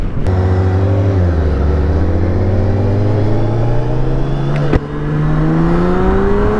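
Tuned BMW K1600 GT motorcycle accelerating hard, its inline-six engine rising steadily in pitch through the gears with one quick shift, loud and close throughout.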